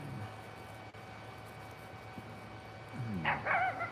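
Dogs bark in a front yard, a few faint distant yips and barks arriving late over a quiet background hum.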